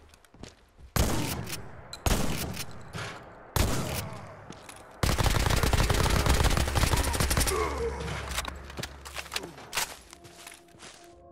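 Gunfire in the video game Fallout 4: several loud separate shots, then a long sustained burst of rapid fire that tapers into scattered shots and quieter clatter.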